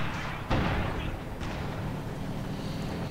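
Distant artillery bombardment from a Soviet SU-76 self-propelled gun in the Company of Heroes 2 strategy game, with a few heavy thuds rumbling over a steady low battlefield din.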